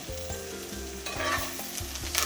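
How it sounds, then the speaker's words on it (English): Brussels sprouts and bacon being stirred in a hot pan, with steady frying sizzle and repeated scraping strokes of the spoon, close and fairly quiet, with no talking. "Stir all this goodness around."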